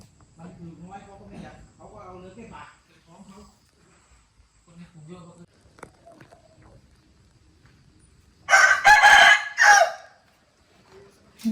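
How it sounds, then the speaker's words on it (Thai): Roosters crow loudly in a short burst after someone speaks quietly in Thai outdoors, the crowing close and much louder than her voice. "วันนี้ไก่ขันเยอะมาก"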